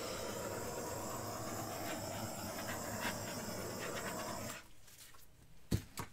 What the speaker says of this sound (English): let me give it a quick torch